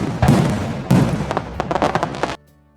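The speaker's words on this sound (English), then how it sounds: "Fireworks are loud and colourful." Several sharp Diwali fireworks bangs and crackles in quick succession, loud and close, ending abruptly.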